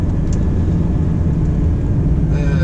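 2011 Scania 480 four-axle tandem dump truck driving, a heavy loud diesel rumble heard from inside the cab, steady low drone that carries on throughout with no talking.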